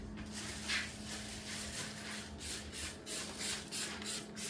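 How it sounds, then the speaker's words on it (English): Forever Wet enzymatic spray misted over a non-lumen medical scope in a high-level disinfection room: soft, repeated hissing spray bursts over a quiet background rustle of handling. "Inside the HLD room, you'll need to spray the scope with Forever Wet"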